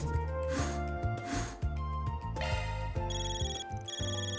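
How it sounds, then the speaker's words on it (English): A phone rings in the video game Trails through Daybreak, a repeating electronic ringtone with steady pulsing tones over continuous game music, loud and close. "There's Evo's ringing, man."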